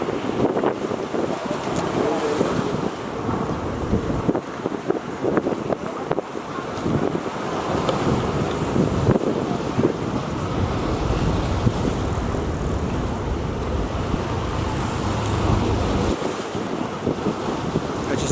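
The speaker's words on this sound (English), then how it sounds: "we're at the Front Beach in Vũng Tàu" Waves roll onto Front Beach in Vũng Tàu at dawn while wind buffets the microphone, a continuous loud roar of surf and gusts with no one speaking.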